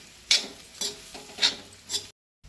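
Soya chunks dry-roasting in a pan, stirred in four distinct scraping rattles spaced about half a second apart, close and moderately loud, with no one talking.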